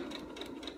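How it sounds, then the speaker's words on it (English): A sewing machine stitches 2-inch fabric squares in a brief, steady mechanical whir with a regular pulsing beat, close and moderately quiet. "underneath the presser foot, and the machine's feet just pull it in"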